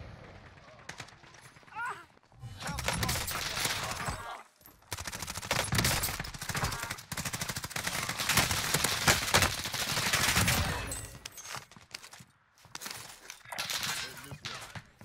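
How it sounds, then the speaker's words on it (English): Bursts of automatic gunfire in the Warzone Zombie Royale mode crackle in long, dense stretches with brief pauses, loud and close, while a voice talks over parts of it. "I'm getting shot from the top of the mountain somewhere"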